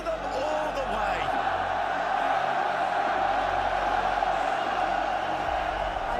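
French fans cheer at a Rocket League major in Paris, making a constant, loud roar of crowd noise that carries on without a break beneath a commentator's voice.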